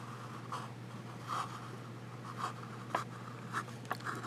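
A Fountain Pen Revolution Jaipur V2 fountain pen with a flex nib scratches across paper in short, soft strokes with brief pauses, quiet and close over a steady low hum.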